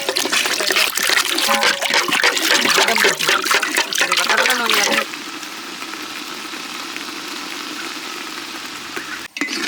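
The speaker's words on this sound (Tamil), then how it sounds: "அதுக்கு வந்து இப்போ தண்ணி ஊற்றிக்குவோம்" Water pours into a pan of cornflour for jamun fruit halwa, village-style cooking: a loud, steady splashing pour for about five seconds, then a softer continuous trickle.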